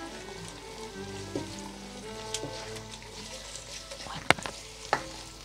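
Chicken keema sizzling steadily in a pan, cooking until its colour turns, with a few sharp spoon scrapes and clinks breaking through the even frying hiss.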